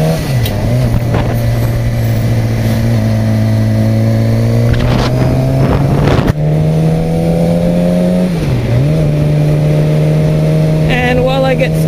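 A Suzuki GSX-R 600cc sport motorcycle riding on a road, its engine droning loud and close with a steady high whine, dipping and climbing as the throttle shifts, with a sharp change partway through.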